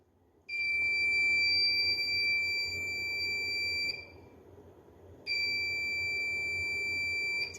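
A multimeter buzzer sounding during a continuity test as the probes touch an intact wire: a loud, steady high-pitched tone held for about three and a half seconds, a brief gap, then the same continuous tone returns.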